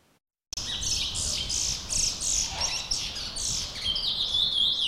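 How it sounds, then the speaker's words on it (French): Picolette finches sing at a song competition in Martinique, giving a close, loud run of bright repeated chirping phrases that ends in a sustained high trill, with no talking. "Les petits oiseaux ont donné de la voix"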